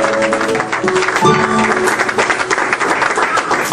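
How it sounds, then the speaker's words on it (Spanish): A congregation at a church service breaks into loud, sustained applause, dense clapping filling the whole stretch, with a brief voice or tone rising over it near the middle. "Fuerte aplauso, mi hermano"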